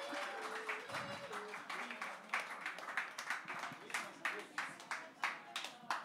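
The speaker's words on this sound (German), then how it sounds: "Let's großer Applaus for her." Audience applause at an Astronomy on Tap science night in Bonn, welcoming a quizmaster to the stage: a steady patter of clapping with sharp individual claps rising through it. Voices murmur underneath.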